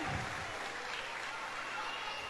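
Parents applauding warmly at a school end-of-year party, a brief, dense burst of clapping filling the room, with voices mixed in.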